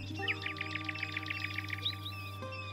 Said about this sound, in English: I like the sound effects for the birds and everything. The chirping and stuff.